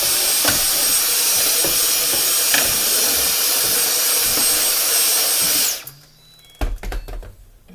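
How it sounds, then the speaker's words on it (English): A vacuum cleaner cleaning out a shoe cabinet roars loudly and steadily with a high whine, then cuts off abruptly near the end, leaving a few bumps and clunks. "let's try to get the vacuum in here if we can."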